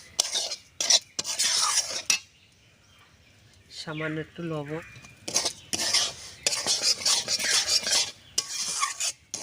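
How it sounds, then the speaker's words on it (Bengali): Semolina stirred in a pan over low heat, giving soft scraping and clinking of a utensil against cookware, with someone speaking in bursts over it. "এইভাবে খুব হালকা হাতে নাড়তে হবে যেন লাল না হয়ে যায়"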